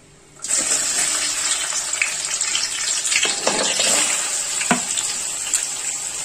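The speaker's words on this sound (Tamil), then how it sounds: "நம்ம எடுத்து வச்சிருந்த வெங்காயத்தையும் அதுலயே சேர்த்துக்கலாங்க" Onions are tipped into hot oil and ghee with spices for chicken biryani, bursting into a loud, close, sustained sizzle with crackles that continues without pause.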